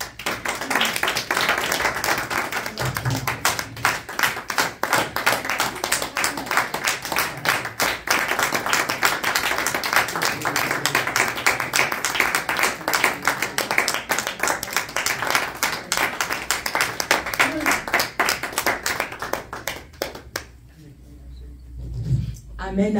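A church congregation claps together to acclaim Jesus, with dense, rapid, sustained applause filling the room for about twenty seconds before stopping abruptly, and voices mixed in.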